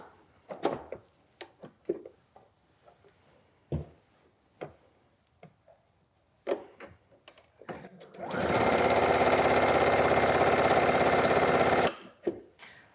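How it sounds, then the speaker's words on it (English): A sewing machine stitches down the side seam of a dress and around a pocket bag in a steady, loud burst lasting several seconds, after scattered clicks and handling noises. "We're going to sew down the side seam around the pocket bag and continue down to the bottom."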